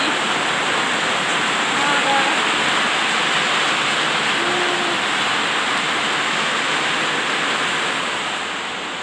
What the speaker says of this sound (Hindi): बारिश आया